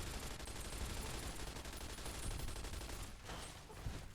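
Continuous rapid gunfire from Fallout New Vegas plays as dense, overlapping bursts of shots that keep a steady level throughout and carry on without pause.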